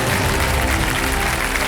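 A studio audience at a quiz game show applauds steadily, a dense wash of clapping that stays even from start to finish with no talk over it.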